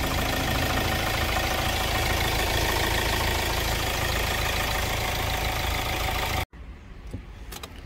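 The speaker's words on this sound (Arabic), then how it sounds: "نسمع الضرب ديال الموتور." A 2014 Hyundai ix35 with a 1.6L petrol engine idles close by, a steady even hum that holds for several seconds before cutting off abruptly, leaving faint background sound.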